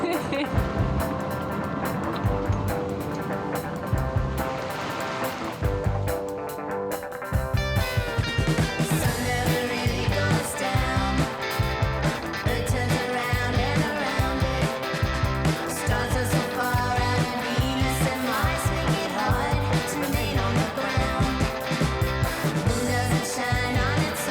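A sailboat moves through sea waves early in the morning on the approach to the Mediterranean near Gibraltar. Rushing water and wind wash along continuously beneath a voice, which talks over most of the stretch.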